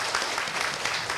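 Brief burst of dense audience applause welcoming a speaker at a discussion forum, steady and fairly loud for about a second.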